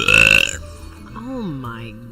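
A loud, long burp from a woman, rumbling for about half a second before trailing into a second, lower drawn-out belch.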